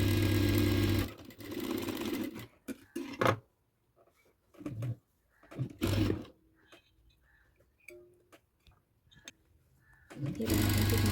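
Sewing machine stitching a seam joint on a blouse, heard in a few short close bursts at the start, middle and end, separated by quiet gaps with handling clicks and taps.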